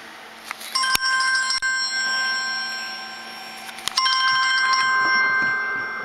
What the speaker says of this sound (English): Now your phone will start ringing without of anybody calling you.